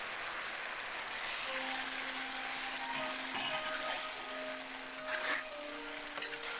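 Steady sizzling of beef frying in a thickened sauce for Cambodian shaking beef (lok lak), a soft continuous crackle with occasional stirring clatter, fairly quiet and close.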